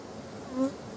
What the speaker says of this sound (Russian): Пчелики.